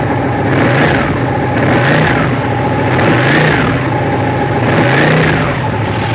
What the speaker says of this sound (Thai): มันเร่งได้แค่สี่พันรอบ มันไม่ให้เร่งได้แค่เนี้ย